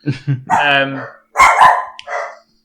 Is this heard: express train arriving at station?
no